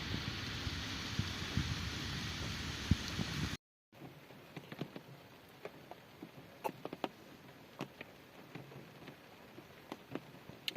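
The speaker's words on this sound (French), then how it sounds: "il pleut des cordes" Heavy night rain on a forest shelter near Guerlédan gives a dense, steady roar for the first few seconds, then after a brief cut only faint scattered drips and ticks remain.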